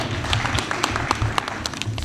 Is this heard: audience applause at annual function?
yes